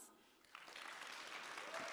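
Audience applause for a panel at a conference on peer coaching and harm reduction, rising after a quiet half second into steady clapping that holds, moderately loud, to the end.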